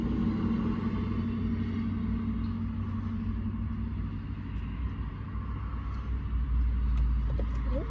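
Trucks rumble past on a busy road near an airport, producing a steady low drone of engines and tires that swells slightly as vehicles go by.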